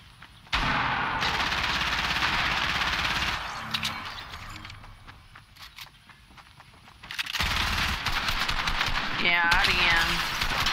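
Rapid automatic gunfire in Fortnite Team Rumble comes in loud sustained bursts, drops to quieter scattered shots, then returns loud, with voices talking over it.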